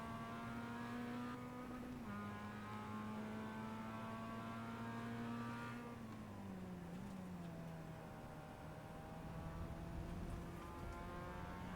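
A Mazda MX5 engine drones steadily in a racing simulator at Okayama, a sustained mid-pitched tone that holds, dips briefly, then falls as the car slows before climbing again, with no talk.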